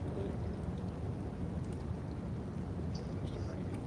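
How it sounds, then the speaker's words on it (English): Steady rain patters on a fishing boat at night during a thunderstorm, a dense, constant hiss with scattered sharper drops striking the hull, fairly faint and continuous with no voices. "you hear that rain hitting the thing"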